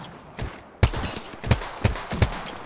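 Sniper rifle shots from the Apex Legends video game ring out in a series of five sharp reports, one softer then four loud, roughly evenly spaced with short echoing tails.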